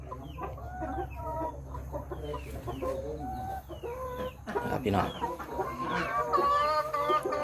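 Laying hens on a small home farm cluck and cackle near and far in overlapping bursts, with several birds calling at once. Someone speaks briefly among them.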